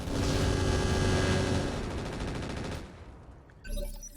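Mech weapons loosing a missile salvo in the video game RogueTech, a dense, loud roaring barrage of rapid launches and blasts that thins out and tails off, then one last burst, with no talking.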